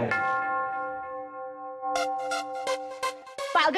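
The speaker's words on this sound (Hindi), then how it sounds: "घंटी बजा बजा के मेरी नींद फाड़ दी" A doorbell sounds with a sustained bell-like chime at the start, followed by several short, repeated ringing bursts near the end, with no talking.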